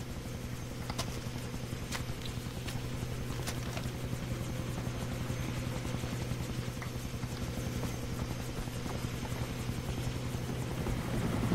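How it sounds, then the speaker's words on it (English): A helicopter in the Far Cry 3 video game thrums steadily with a fast, even rotor chop, loud and continuous throughout with no voices over it. "Get to the chopper!"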